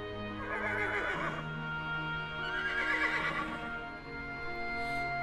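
A horse neighing in two long, shaky whinnies one after the other, heard up close against steady background noise.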